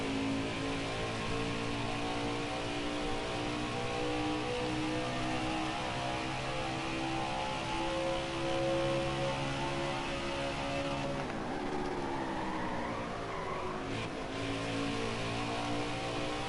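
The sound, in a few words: truck engine revving while downshifting, NASCAR Heat 5 video game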